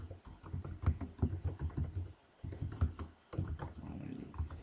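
Fast bursts of key clicks come from typing on a computer keyboard while a message banner is entered during network configuration, close and clear with brief pauses between runs.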